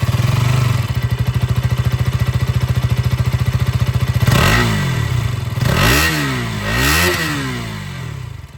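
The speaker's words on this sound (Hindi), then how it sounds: "ये थे एग्जॉस्ट साउंड" A 2026 KTM Duke 200 motorcycle engine idles with a steady rapid thump, then revs up and down three times, the exhaust note rising and falling loudly and close.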